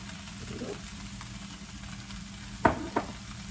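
Corn kernels cut off the cob stir-frying in a pan, a soft steady sizzle with two sharp scraping stirs near the end.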